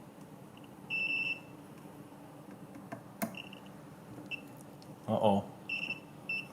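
A multimeter continuity test on a BMW dashboard speedometer cluster, probing between pins: short electronic beeps come in brief bursts, some faint and intermittent, with someone speaking briefly.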